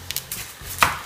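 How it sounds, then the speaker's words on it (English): An onion being chopped with a knife on a cutting board for homemade chili, a few sharp close knife strikes with one louder thud near the end, within about a second. "Cut my onion."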